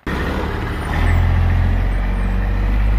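A truck engine with loud exhaust pipes rumbles steadily and close on a cold morning, its deep roar swelling a little louder after the first second and holding there, with no voices.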